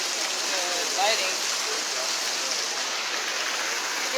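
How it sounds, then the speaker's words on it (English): A waterfall roars in a steady, unbroken rush of water that stays loud and even throughout, with no talking over it. "The waterfall behind me."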